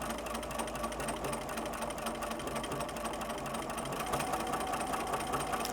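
A sewing machine stitches an invisible appliqué at a fast, even pace, with a close and steady mechanical whirr and no pauses.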